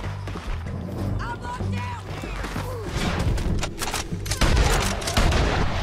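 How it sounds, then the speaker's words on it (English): Gunshots in Red Dead Redemption 2 crack out in irregular volleys, growing denser and louder toward the end, mixed with game noise while people talk. "Who's still shooting?"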